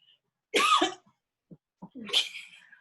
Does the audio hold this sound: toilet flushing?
no